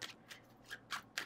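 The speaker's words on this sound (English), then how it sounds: "We will be shuffling around it." A tarot deck being shuffled by hand, with several quiet, crisp card riffles and slides coming in short bursts at an uneven rhythm, close by in an otherwise quiet room.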